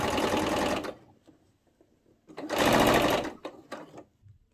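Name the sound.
sewing machine stitching cotton jersey top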